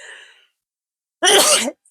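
A single sharp sneeze bursts out after a brief murmur and a pause of silence, loud and close.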